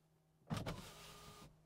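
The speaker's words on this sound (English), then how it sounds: "I've ventilated the windows." Power windows on a Mercedes car lower by remote control, a sharp clunk and then a steady electric motor whir lasting about a second before stopping abruptly, quiet and close.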